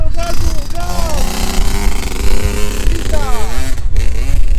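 A Derbi Senda 50cc motorcycle engine revs hard and buzzes continuously while people shout excitedly over it.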